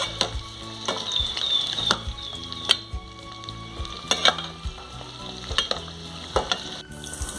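Chiles fry in very hot oil with a continuous bright sizzle, broken by sharp clinks and scrapes of stirring utensils against the pan.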